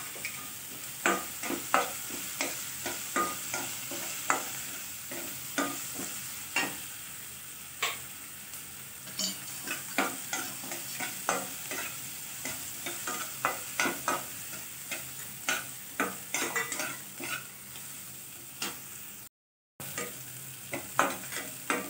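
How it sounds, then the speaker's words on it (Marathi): Onion with a little salt sautéing in a pan for sevai upma, a steady sizzle broken by repeated sharp scrapes and clinks of a spoon stirring, close and fairly even throughout. "थोडंसं मीठ घालून घ्यायचं, कांदा आपला पटकन भाजतो।"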